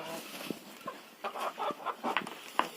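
Hens in a village coop give soft, scattered clucks and short murmuring calls, fairly quiet and close, in brief irregular bursts.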